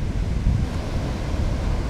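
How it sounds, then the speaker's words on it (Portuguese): Ocean surf at Costa da Caparica beach in Setúbal, Portugal, a loud continuous wash of breaking waves mixed with heavy wind buffeting the microphone, with no voices. "mas vejam que forma boas ondas para quem gosta realmente."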